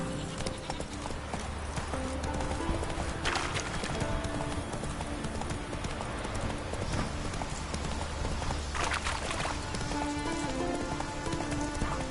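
Steady galloping hoofbeats from the horse Roach, a continuous rhythmic clip-clop at moderate distance, blended with a dense wash of ambient noise and faint music.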